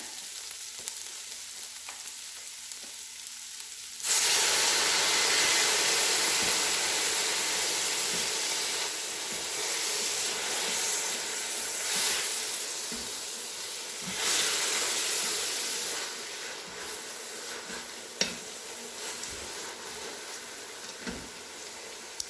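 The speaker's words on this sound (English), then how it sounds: "now let's deglaze with the white wine." White wine poured into a hot Instant Pot to deglaze risotto base, bursting into a loud, sustained sizzle and steam hiss that slowly eases off, with occasional stirring scrapes.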